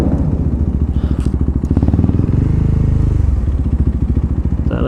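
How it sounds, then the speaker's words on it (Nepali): A motorcycle idles close by while its silencer gives irregular sharp pops and clattery bangs over the steady throb of the engine. "साइलेन्सर पड्किन्छ के गर्ने यस्तै छ गाइस"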